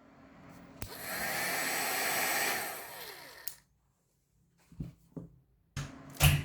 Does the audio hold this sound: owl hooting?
no